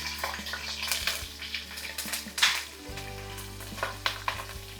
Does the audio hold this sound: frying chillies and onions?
yes